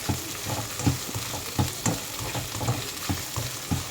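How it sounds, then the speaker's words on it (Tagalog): Cabbage fries in a pan with a steady, close sizzle, broken by regular scraping and stirring knocks roughly every half second, with no talking. "Tapos fry ko yung cabbage."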